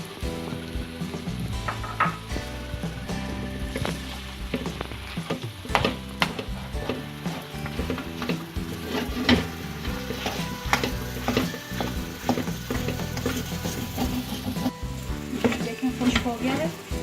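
Makhandi halwa frying in ghee in a pan while it is stirred, giving a continuous close sizzle broken by repeated scraping and clattering stirring strokes throughout.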